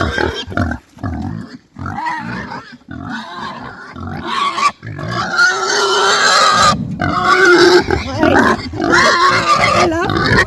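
Pigs grunt and snort up close at a farm gate, a run of rough, uneven grunts and snuffles, with a person talking to them in between.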